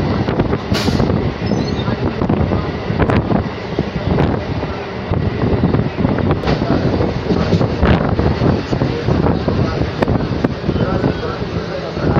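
An ICF EMU local train running from Sealdah toward Barddhaman via Naihati: a loud, steady rolling rumble with wind buffeting the microphone and faint rhythmic clicks from the wheels, heard from on board.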